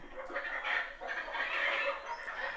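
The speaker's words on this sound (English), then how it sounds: "Chicken!" Cartoon chicken clucks in a quick run of squawky calls, near and fairly loud, with no talking over it.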